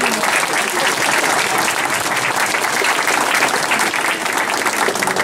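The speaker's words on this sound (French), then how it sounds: "On peut l'applaudir." An assembly in Wallonia applauds Mr. Yves Rancelot, a 90-year-old guest, with steady, full crowd clapping that holds at an even level throughout, close and loud.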